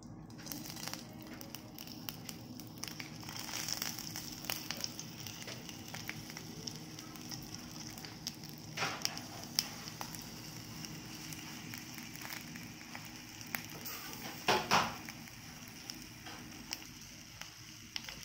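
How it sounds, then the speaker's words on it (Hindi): Besan-stuffed green chillies frying in a spoonful of oil in a pan give a steady close sizzle and crackle, with brief louder spits and a soft bump near the end and no talking. "हमने एक चम्मच तेल डाला इसमें और इसमें हमारी मिर्ची रखेंगे"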